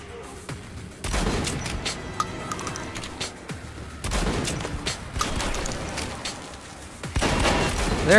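Enemy gunfire in the shooter Metro Last Light comes as several loud bursts of rapid shots and scattered single cracks. The bursts arrive in waves over a continuous background of battle noise.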